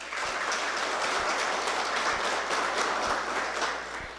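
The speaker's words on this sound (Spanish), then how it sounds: "Para ustedes también, un fuerte aplauso." Audience applause at an evening lecture event, a dense, even wash of clapping that holds steady before fading slightly at the end.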